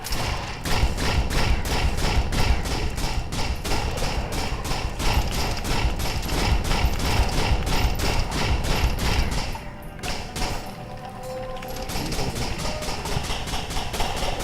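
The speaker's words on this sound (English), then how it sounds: "Dude, I shoot so fast now." Rapid automatic gunfire from the video game Risk of Rain rattles loudly and continuously, a dense stream of thuds and shots that dips briefly before resuming at full intensity.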